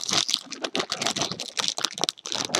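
Plastic packaging of a Tenkai Knights 2-in-1 Volt Jet/Sky Griffin building set is torn and crinkled open, a dense run of close, busy crackling and rustling with no pauses.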